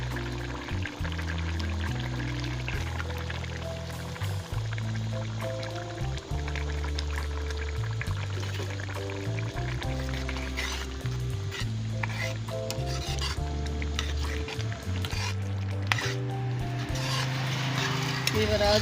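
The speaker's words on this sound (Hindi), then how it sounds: "अब मैं अंडे शामिल कर रही हूँ।" Eggs are added to cooked potatoes in a hot pan for aloo anday, giving a steady sizzle with stirring and scraping throughout, fairly quiet, under a continuous musical background.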